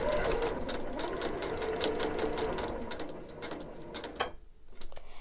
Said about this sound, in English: Okay, I've got that sewn on the line.